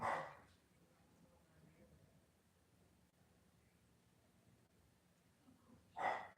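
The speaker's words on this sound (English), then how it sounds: "Rat, what are you barking at?" Two short dog barks, one at the start and one at the end, separated by several seconds of quiet room tone.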